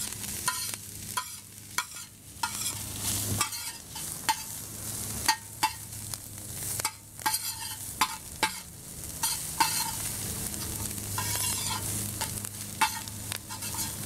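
Cauliflower stir-fried in a wok for fried rice: a continuous close sizzle broken by frequent sharp scrapes and taps of a spatula against the pan.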